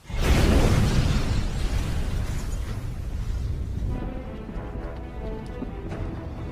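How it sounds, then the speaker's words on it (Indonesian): A car blowing up from a time bomb in an action film: a loud, close blast at the start that rolls into a sustained rumbling roar, slowly thinning as debris and fire noise linger. "Cat berhasil meninggalkan mobil dengan bom waktu yang diberikan oleh Sun, yang membuat mobil itu meledak"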